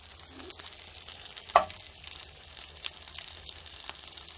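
Eggs frying in a pan on an outdoor cooker, giving a steady, quiet sizzle throughout with one brief sharp clatter near the middle.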